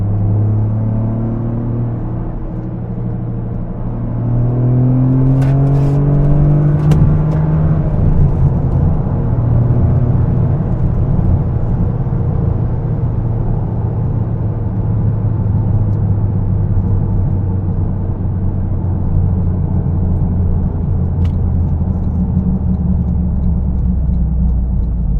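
Toyota GR Corolla engine fitted with a K&N filter and Forge Motorsport inlet, giving a deep steady rumble with a brief rev rise early on, then a sustained drone with no talking.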